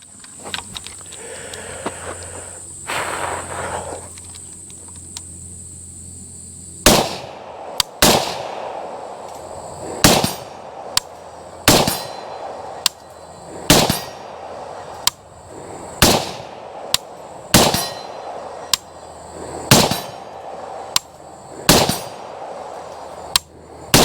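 Shots ring out from a Polish FB Radom 7.62 Beryl M1 AK-pattern rifle on an outdoor range, about fifteen loud, sharp cracks fired singly at uneven intervals, each trailing a short echo, with no talking.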